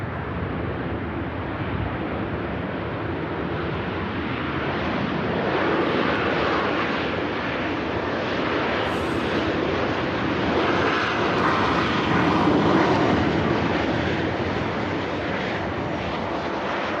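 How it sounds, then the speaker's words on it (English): A jet airliner landing at Manchester Airport, a broad sustained engine roar with wind-like hiss, loud and continuous, swelling slightly midway, with no talk. "what a smooth landing that was"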